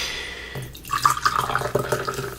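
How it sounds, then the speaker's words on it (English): Monster Energy Juice Pacific Punch pouring from a can, a close, splashy liquid trickle that starts about halfway through and runs steadily to the end without talk. "That pours out really nice."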